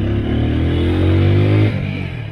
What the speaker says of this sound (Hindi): बट इसका एग्जॉस्ट नोट ऐसा स्पोर्टी मोड देगा आपको आवाज़ में